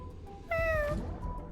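A single clear cat meow from the video game Honkai Star Rail, a short rising-then-falling cry over a low background hum, alone without talk.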